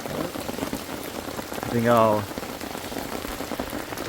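Heavy rain pours steadily at an autumn campsite beside a lit campfire, a dense constant hiss that continues while someone briefly speaks.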